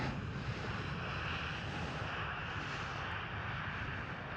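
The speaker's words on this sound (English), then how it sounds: "A321neo. Seeing her touchdown." An Airbus A321neo touching down at Schiphol Airport in Amsterdam gives off a steady, broad roar of engines and rushing air, distant and even throughout with no sharp peaks.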